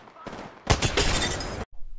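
A Kraber sniper rifle in Apex Legends fires one sharp, loud, booming shot that rings briefly and cuts off abruptly, followed by a faint tail.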